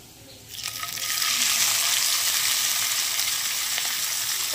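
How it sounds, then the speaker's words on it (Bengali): Kachki fish coated in salt and turmeric sizzles loudly in hot oil in a wok, a steady bright crackle that swells after a quiet start and holds without talk. "এবার আমি এক এক করে মাছ ভেজে নেব।"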